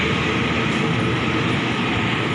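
A passenger train runs along a railway nearby, producing a loud, dense, continuous roar and rumble that stays steady with no gaps.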